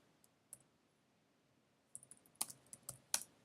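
Typing on a computer keyboard, faint and close: a few isolated clicks, then a quicker cluster of sharp keystrokes, alone without talk.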